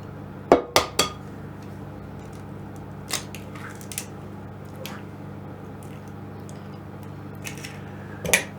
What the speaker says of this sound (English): I'm just going to dive in with my hands, mix it all up